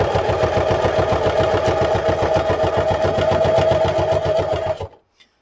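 A sewing machine stitches through the spine of a junk journal built from an old book, running in a fast, even mechanical rhythm for several seconds before stopping abruptly.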